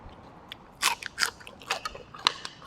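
Crisp, crunchy bites and chewing of fried crispy winged beans, several sharp crunches spaced irregularly and heard close up, with no talking.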